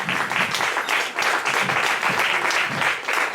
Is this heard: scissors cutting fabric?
no